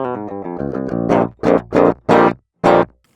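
A clean, dry Fernandez Ravel baritone guitar with EMG pickups, played direct through a DI box in a low register: a run of plucked notes, then four separate sustained chords with short gaps between them.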